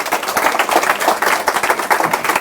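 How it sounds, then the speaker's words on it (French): An audience at a rabbi's conference breaks into steady applause, many hands clapping in a dense, rhythmic patter that holds strong and even from start to finish. "Applaudissez-les parce que bien ils le méritent."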